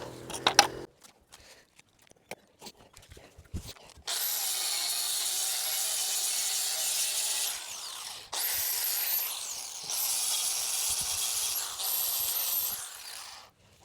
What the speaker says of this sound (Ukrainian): позачищаємо місця там, де відрізали метал, щоб нормальна рамка потім лягала